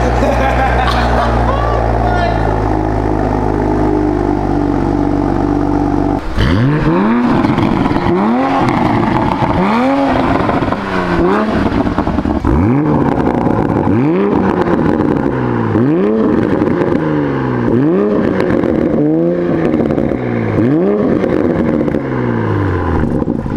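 A stock Toyota Supra fitted with a new Valvetronic aftermarket exhaust idles loudly, then revs repeatedly in a steady series of sharp climbing blips that fall back between each, close and dominant, with talking over the engine.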